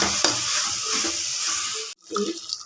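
A spoon stirs and scrapes through sizzling chilli-powder masala in a pan for mushroom biryani, with steady frying underneath and a brief pause before stirring resumes.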